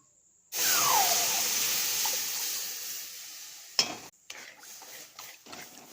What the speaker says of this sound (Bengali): সঙ্গে সঙ্গে তাড়াতাড়ি নাড়তে হবে, না হলে তলায় লেগে যাবে।